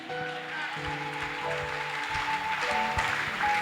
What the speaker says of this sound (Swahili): Shangilia Bwana Yesu kwa makofi.